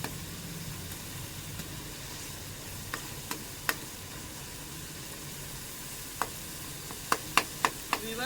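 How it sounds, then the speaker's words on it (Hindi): Onion, garlic and ginger frying in a pan, a quiet steady sizzle with scattered sharp clicks and scrapes of a spoon stirring, grouped more densely near the end, no talking. "हल्का सा अब इसको भूनना है ताकि इसका कच्चापन दूर हो जाए, लहसुन और अदरक का कच्चापन ख़त्म हो जाए"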